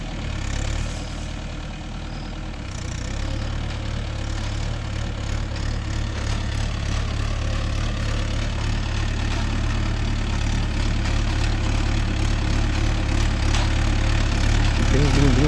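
A Mahindra Yuvo Tech Plus 585 4WD tractor pulling a nine-tine spring cultivator runs with a steady low engine drone that builds slightly, with a voice heard over it.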